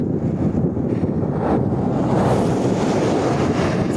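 Headwind buffets a microphone while cycling uphill on a highway bypass, a constant loud roaring rush with gusty swells throughout.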